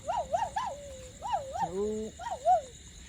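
A dog barks in quick, high, yelping bursts, several in a row with short pauses, fairly close and clear.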